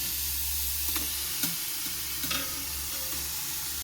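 Chopped beef is stirred into masala in a pan for Kerala erachi choru, with a low, steady frying sizzle and a few soft scraping stirs that stay faint throughout.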